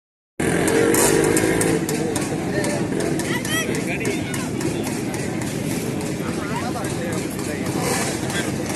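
A 60-year-old recently restored motorcycle engine runs steadily and loudly up close at a bike riders' day gathering, a continuous throbbing drone with rattling mechanical clatter and crowd noise around it.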